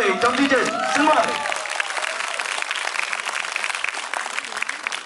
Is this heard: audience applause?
yes